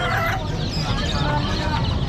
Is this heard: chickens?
yes